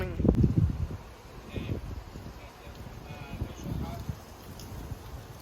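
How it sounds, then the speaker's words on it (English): A strong gust of wind ahead of a thunderstorm, with heavy low buffeting and rushing noise, loudest at first and then steady, heard close outdoors. "Oh my gosh, it's a bigger gust."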